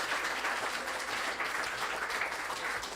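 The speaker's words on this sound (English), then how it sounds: "one more round of applause for Casino Guitars" An audience at a Taylor guitar road show inside a guitar shop gives a round of applause, a dense, even wash of clapping that runs unbroken for about three seconds at moderate loudness.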